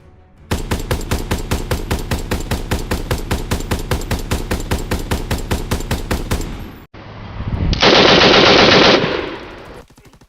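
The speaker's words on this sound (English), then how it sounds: "On screen, you'll see a video of the Bren from Call of Duty and its slow fire rate" A Bren light machine gun in Call of Duty WW2 fires a loud, sustained burst at a slow, even cadence of roughly five rounds per second, then cuts off and gives way to a brief rushing mechanical whoosh.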